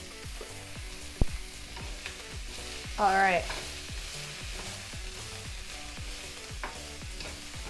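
Cauliflower sizzling uncovered in a pan, a low, steady frying hiss under repeating background music, with one brief spoken remark.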